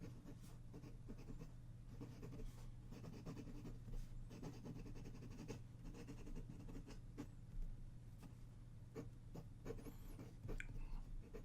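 A medium-nib Rotring 600 fountain pen moves across paper, giving soft, close scratchy strokes in an irregular rhythm over a quiet, steady low hum.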